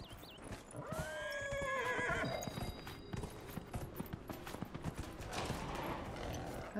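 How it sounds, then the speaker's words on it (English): A horse whinnies loudly in the video game Dragon Age: Inquisition, then hooves pound along in a quick galloping rhythm. "I love anything where I get to ride a horse."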